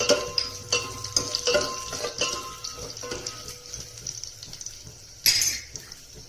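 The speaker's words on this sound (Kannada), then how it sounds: "ಬೆಳ್ಳುಳ್ಳಿ ಸ್ವಲ್ಪ ಕೆಂಪಾದ್ಮೇಲೆ ಒಂದೆರಡು ಒಣಮೆಣಸಿನ್ಕಾಯಿ ಕಟ್ ಮಾಡಿ ಹಾಕ್ರಿ" Garlic and dry red chillies sizzle in hot oil on a medium flame, with a soft steady crackle under repeated clinks and scrapes of a spoon stirring against the pan.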